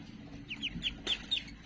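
Newly hatched ducklings give a few short, high-pitched peeps in quick succession, soft and close against quiet background noise.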